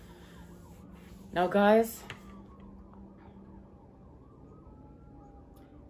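A siren wails briefly in the distance, rising and falling for under a second, while a person talks over steady background noise.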